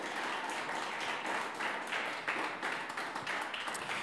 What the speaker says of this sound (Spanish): ¿Por qué no le da palmas al Señor, hermano?